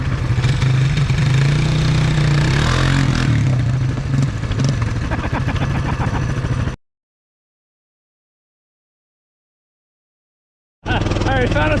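A mini bike engine runs loud and close with a steady buzzing drone while people talk over it. The sound cuts out to several seconds of silence, then returns briefly.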